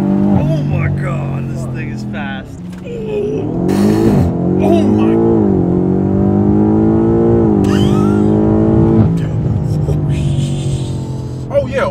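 A powerful BMW M5 engine, stage three tuned, revs and accelerates hard, loud and close, with excited voices shouting over the roar.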